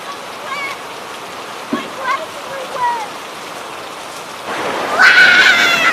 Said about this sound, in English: Oh no! It's raining harder!